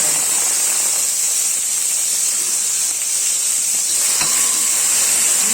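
Chopped onions frying in a spoonful of oil in a pan, a loud constant hiss of sizzling with a couple of faint clicks near the end, close by and uninterrupted by talk.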